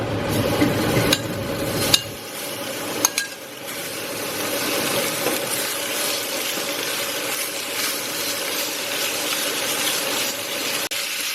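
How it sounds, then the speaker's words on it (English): Pork belly browning in a hot pan, a steady sizzling hiss of frying fat with a few sharp clinks and scrapes early on, close and continuous with no talking. "I'm just going to spread this pork out and leave it for a few minutes to brown"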